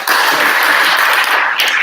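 Applause from a seated audience for a person named at a sales psychology event: a loud, close, continuous wash of many hands clapping that holds steady for the whole stretch, with no talking over it.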